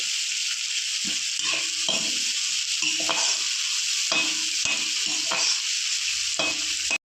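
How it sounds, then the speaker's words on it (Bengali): Chopped tomatoes and onion frying in a pan for a kharkon paste dish, under a constant bright sizzle with repeated close scraping strokes of a spatula in an irregular rhythm. "টমেটো কুচি। ভালো করে একটু ভেজে নেব।"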